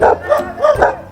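A dog gives a few quick, close yaps and barks in an uneven rhythm, some sounding almost like whimpers.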